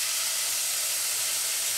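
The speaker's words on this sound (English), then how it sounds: "And in go the tomatoes." Tomatoes tipped into a hot pot of sautéed garlic for pizza sauce give a steady, close, even hiss of sizzling that lasts throughout.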